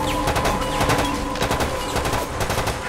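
Bolt-action rifle fire in the Resident Evil Raccoon City video game against a one-armed crimson head zombie, a dense run of sharp repeated shots over continuous game music and ambience, loud and close.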